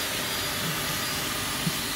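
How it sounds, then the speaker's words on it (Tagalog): A borrowed vacuum cleaner runs during house cleaning, a steady loud motor whine and airflow hiss that holds constant throughout with no breaks. "nangiram ako ng vacuum para makapaglinis"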